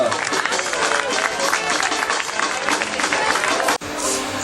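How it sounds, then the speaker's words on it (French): A crowd at a Téléthon charity event in Hazebrouck, France applauds loudly and steadily, with cheering voices mixed into the dense clapping, which breaks off briefly near the end. "je pense qu'on peut les applaudir bien fort"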